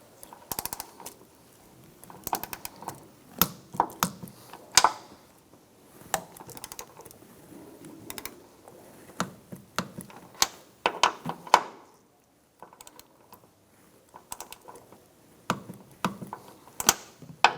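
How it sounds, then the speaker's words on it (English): Three strut tower bolts on a 2005-2010 Chrysler 300 being torqued to 20 foot-pounds produce scattered sharp metallic clicks and short ratcheting bursts, close and fairly quiet, with pauses between them. "you're going to want to torque down these 3 strut tower bolts"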